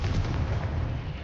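Confringo fire-blast spell exploding in Hogwarts Legacy, a dense, roaring burst of low rumble that fills the whole moment at steady loudness.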